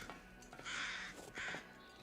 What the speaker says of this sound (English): It's the weather-changing crows.